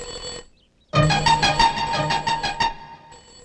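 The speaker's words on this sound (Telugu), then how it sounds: "ఫోన్ మోగుతుంది" A phone ringtone rings in a quick run of repeated bright electronic tones, close and clear, starting after a brief near-silence and lasting close to two seconds.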